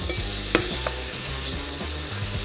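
Steak sears in a hot Onyx pan with a loud, continuous close sizzle, a few scraping clicks as the meat is moved, and background music underneath.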